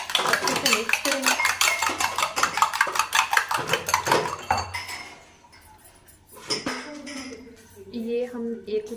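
Two eggs with salt beaten in a bowl, rapid rhythmic clinking of utensil against the bowl for several seconds, then a pause and a few slower taps, with talk over it.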